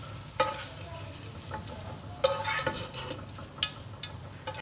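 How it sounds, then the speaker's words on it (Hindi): Green chilies fry in hot oil with a soft, steady sizzle. Occasional stirring clinks and scrapes sound close by. "इनको हमने अच्छी तरह से फ्राई करना है ताकि इनका कलर चेंज हो जाए"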